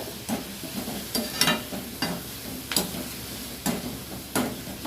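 Roasted peanuts being stirred in hot oil in a pan for Madurai-style spicy chutney, a soft continuous sizzle broken by regular scraping strokes about every second, close and moderately quiet with no talk.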